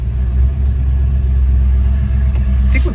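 A Dodge Charger fitted with a Mother Thumper cam and a 2500 stall converter is put in gear and pulls away. A deep, loping engine rumble holds steady and close, with no talking.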